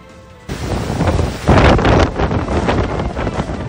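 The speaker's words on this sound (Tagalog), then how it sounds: "Walang humpay ang malakas na buhos ng ulan at hanging dala ng Super Typhoon Nando sa Santa Ana, Cagayan." Super Typhoon Nando batters Santa Ana, Cagayan, with strong wind and heavy rain, a loud, roaring gusty rush that surges abruptly and stays intense throughout.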